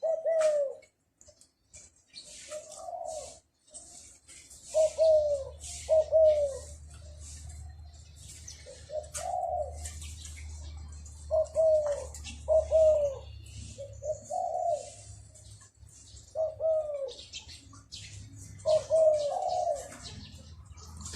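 Repeated cooing calls from a pigeon or dove, several short phrases spaced a few seconds apart at moderate distance, with other faint bird chirps and a low rumble beneath.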